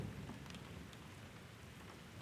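Steady rain falls on a surface in a rainstorm, a dense, soft hiss with faint distant rumbles, continuous and alone.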